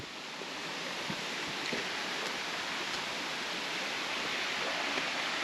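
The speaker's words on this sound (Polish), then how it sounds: "tu sobie ten strumyk płynie." A small stream flowing beside an old resort building, a steady broadband rush of water that holds even and moderately loud throughout.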